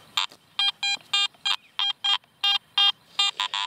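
A series of short electronic beeping tones from a Garrett AT Max metal detector, about a dozen quick bursts in an uneven rhythm, clear and close with faint background hiss between them.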